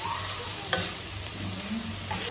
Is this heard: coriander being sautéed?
yes